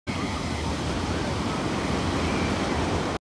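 Ocean surf at Laguna Beach rolls in as a loud, steady broadband wash of breaking waves, continuous and close, with no voices over it until it cuts off abruptly near the end.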